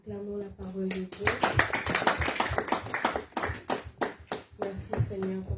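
Church congregation applauding, a burst of lively, rhythmic clapping that swells after a short sung line, with voices singing over it before the clapping fades.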